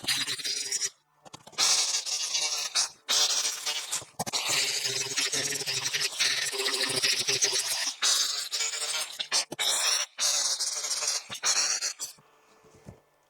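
Abrasive rubbing and rasping of a rubber-backed sanding pad removing welds from metal compressor guards, loud and continuous with brief pauses between passes, close by.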